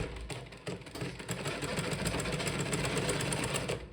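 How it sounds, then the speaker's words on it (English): A sewing machine running steadily while stitching shirring lines with elastic thread on dress fabric, a fast even mechanical whir with rapid needle ticks, fairly quiet and close, with no talk. "So on your lines that you have made, you're just going to begin sewing."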